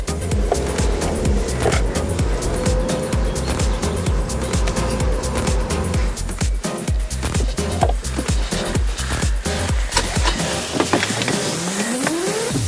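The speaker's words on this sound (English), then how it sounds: "So let's now see how the Nissan Cube handles." A Nissan Cube rolls along a road with a constant, fairly loud mix of tire roar and engine drone, heard from inside the car, with rhythmic thumps from road joints.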